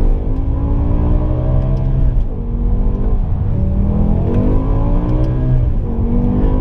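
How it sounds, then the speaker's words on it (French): A BMW M6 Competition's V10 revs hard, loud and close, the pitch climbing and dropping again and again as it runs through the gears with brief dips between shifts. "Puis les gars, putain, le V10 quoi."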